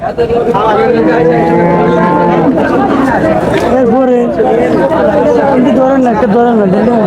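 Cattle moo and low several times amid a noisy crowd at a large cattle and goat market in Miarsanni Bazar, Chauddagram, Comilla, with constant chatter and overlapping voices all around.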